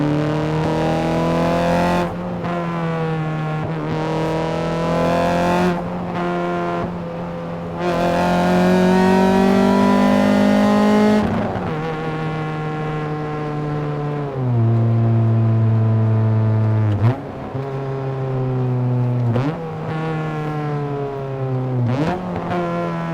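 Honda car with a loud aftermarket exhaust accelerating hard, its engine note climbing steadily through the gears, dropping at each shift and climbing again, loud and close throughout with no talk.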